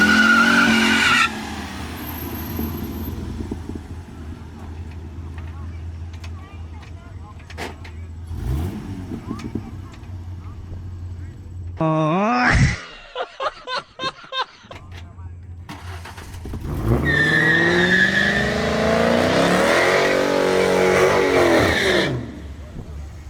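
A street race in Mexico between a V6 Mustang and a stock orange Charger RT: engines rumble, then sharp revs and rising acceleration whines. Tire noise and a brief quiet gap come before a loud final surge.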